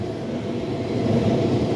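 Two SNCF Z 50000 suburban trains passing each other at Pont Marcadet near Paris-Gare du Nord, a steady, loud rumbling roar of rolling stock that builds slightly toward the end, with no voices.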